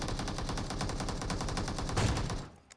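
Rapid automatic gunfire from a shooter video game rattles in a continuous burst at close range, then cuts off abruptly near the end, with no voices over it.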